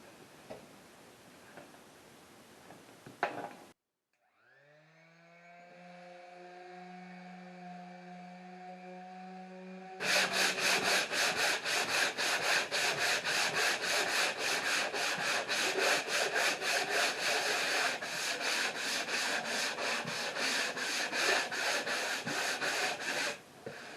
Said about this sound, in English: just the sanding to level and smooth the top